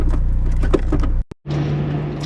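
A Honda car with a stripped-down, modified interior pulling away in first gear, a close, loud engine drone with a steady low hum that cuts out briefly and then resumes, with no talking.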